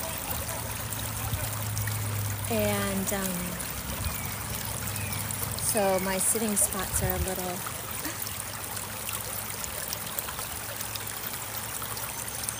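A creek swollen after heavy rain flows in a steady, close broadband rush throughout, with a person talking over the water for most of the stretch.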